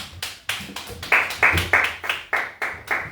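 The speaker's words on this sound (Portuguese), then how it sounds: "Palmas bem fortes para o Rei Jesus," At an afternoon worship service, a congregation claps hands in unison, a steady rhythmic beat of about three claps per second, loud and close, with no talking.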